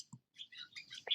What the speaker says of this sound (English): you can probably hear our lovely, friendly swallows. So they've just started chattering as well at us.